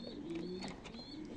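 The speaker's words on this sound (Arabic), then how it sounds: "هذا الحمام قديم نادر" Rare old-breed pigeons coo softly in a few rolling, repeated calls, fairly faint and alone without talk.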